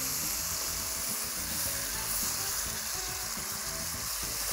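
Pork belly sizzling hard in a pan just after a splash of vinegar deglazes it, a dense, steady hiss and crackle close up with no voices.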